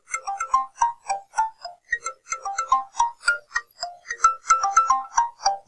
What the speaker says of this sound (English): And then my phone goes off.